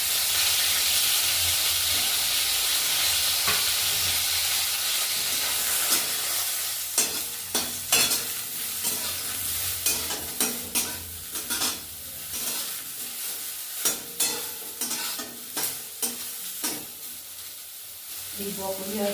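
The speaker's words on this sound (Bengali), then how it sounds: "ব্রকলিটা ভেজে নেব।" Broccoli fries in white oil in a hot wok, a steady loud sizzle with repeated scraping stir strokes that come in irregular bursts through the second half.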